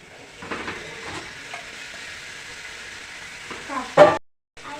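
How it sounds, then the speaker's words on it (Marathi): Prawns sauté in homemade masala in a pan for a Konkan-style prawn and potato gravy, giving a soft, steady sizzle with light stirring scrapes and a sharper clatter near the end. "मिक्स करून घेते चांगली परतून घ्यायची कारण आपल्याला ग्रेव्ही बनवायची आहे"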